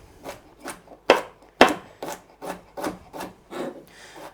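Broccoli stems being finely chopped into broccoli rice, with about ten crisp, rhythmic knife strokes at a steady pace, two of them sharper and louder, each stroke carrying a brief scraping rasp.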